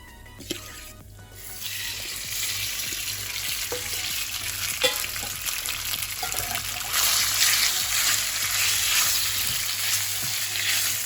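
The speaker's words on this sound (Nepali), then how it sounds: "अब यतिको फुरिएपछि म यसमा चिकन राख्दैछु।" Chicken pieces dropped into hot oil with cumin, a sharp initial crackle giving way to a continuous strong sizzle that swells louder toward the end.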